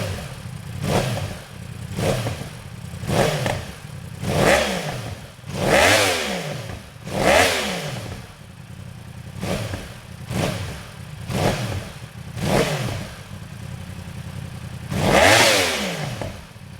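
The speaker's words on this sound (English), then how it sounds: "let's get a quick sound check of the factory exhaust system with the DIY flip mod" A Yamaha R1 sport motorcycle with stock factory exhaust and servo valve flip mod revs repeatedly in short bursts, each rising then dropping back to a low idle, about a dozen blips close by.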